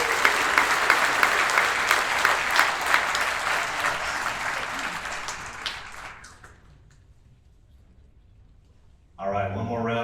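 Applause from an awards ceremony audience, dense and sustained for about six seconds before fading to near silence, then a voice begins speaking over a microphone.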